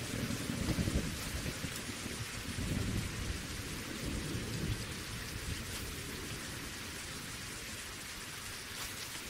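Steady, dense rain pours in the survival game Reign of Kings, a broad hiss that stays loud throughout with low rumbling swells like distant thunder early on.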